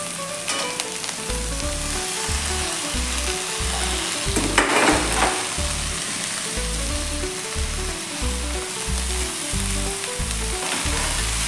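Fasting-style rajgira (amaranth) leaves frying in a pan with green chilli, a steady loud sizzle throughout with a scraping stir midway, backed by low rhythmic music.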